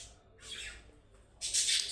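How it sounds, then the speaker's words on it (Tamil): Pet birds squawking in a home kitchen while tamarind curry cooks, harsh bright calls coming in short bursts, with a louder, sustained squawk at the end. "பேர்ட்ஸ் வளர்க்குறோங்க. அதனால் வந்து அவங்களோட சவுண்டு தான் கேட்டுகிட்டே இருக்குது"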